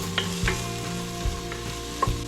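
Leftover vegetable pieces are stirred in hot oil in a pan over medium-high heat. A soft sizzle runs steadily throughout, broken by a few distinct scraping strokes of the utensil against the pan, with no talking.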